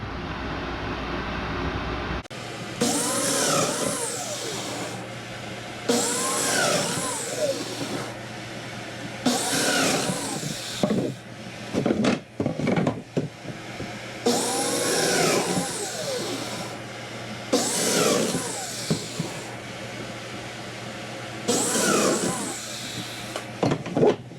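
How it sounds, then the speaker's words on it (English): A domino joiner cuts mortises in cabinet panel stock while a dust collector runs, the steady suction hiss underlying about six loud, close bursts of cutting spaced a few seconds apart. "Alright, so now we're going to cut these dominoes."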